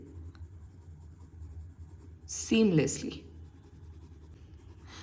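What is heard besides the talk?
blending 8B graphite with 4B pencil on paper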